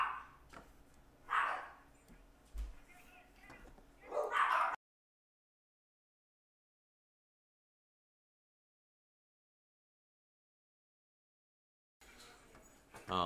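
Dogs bark indoors in a few short, moderately loud bursts near the start, with a whimper in between. The sound then cuts to silence and returns faintly at the end.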